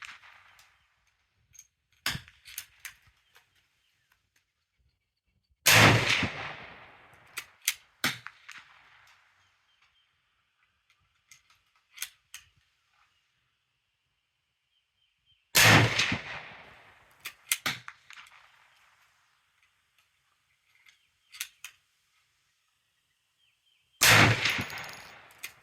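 Three sharp, loud gunshots from a .35 Remington bolt-action rifle at an outdoor range, spaced roughly ten seconds apart, each with a short echoing tail and quieter clicks and handling noises between shots.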